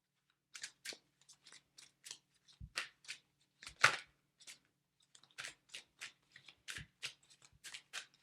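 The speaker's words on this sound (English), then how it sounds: "I'm going to get some more tarot cards now." Tarot cards being shuffled and handled in a quiet room: a steady run of short, crisp papery riffles and flicks, close and fairly soft, with a couple of duller taps on a surface.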